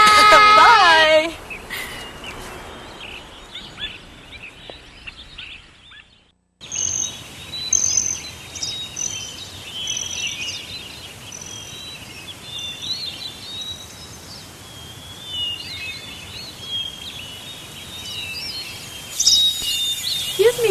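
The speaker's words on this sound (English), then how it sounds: "I noticed a lovely red-winged blackbird fly into your backyard, and I was hoping that I could get a good recording of its sounds" Red-winged blackbird song in a backyard, bright chirps and trills recurring across a steady outdoor ambience, moderately near, with a brief pause before the calls resume and no talk over them.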